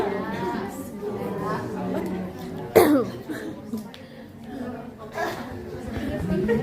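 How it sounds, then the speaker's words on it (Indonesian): A sharp cough bursts out amid ongoing conversation and background chatter, with a few smaller throat sounds after it, during a nursing lesson on sputum clearance. "Biasanya begini kalau lagi batuk, biasa ada refleks untuk langsung batuk"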